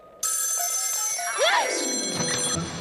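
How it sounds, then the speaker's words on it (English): An old telephone bell rings in a haunted house, a steady continuous ringing that starts abruptly and holds over several seconds, close and fairly loud with a warbling effect sweeping through the middle. "That was a tantalizing tintinabulation."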